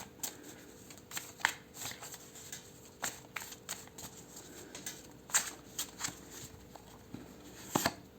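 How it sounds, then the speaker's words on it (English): Cards are riffled and shuffled in quick, crisp bursts, close by, with short pauses between rounds and no voices. "This one fell out, but I want to shuffle again."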